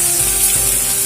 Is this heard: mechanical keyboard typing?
no